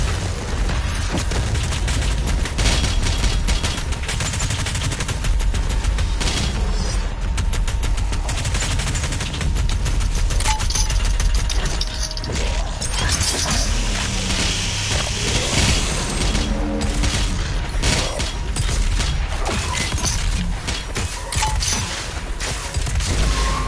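Rapid bursts of gunfire, grenades and heavy explosions pound on continuously in the video game Doom Eternal, loud and chaotic, with mechanical clatter and no talking.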